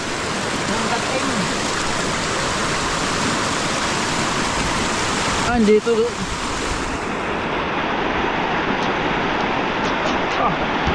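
Swollen river water rushing after days of steady rain, a dense, constant roar that runs throughout, with a brief disturbance partway through and a voice speaking briefly over it.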